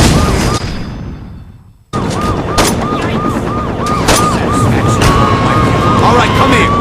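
Gunfire in the video game Saints Row 2, loud sharp shots spaced irregularly over a siren, engine noise and shouting voices, after a brief dip in the sound.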